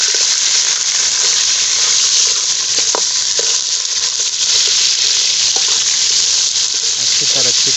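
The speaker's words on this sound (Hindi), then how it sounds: "अच्छी तरह चिकन में भून लेंगे।" Chicken fries in a pan over a fire in a village setting, with a loud constant sizzle and faint stirring clinks throughout, close by.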